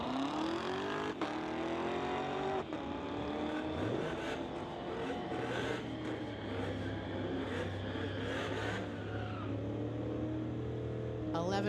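A 2018 Audi S4 drag racing a Corvette down a strip, engines rising through the gears in a continuous loud roar with shifting tones, heard from the track side alongside an announcer's voice.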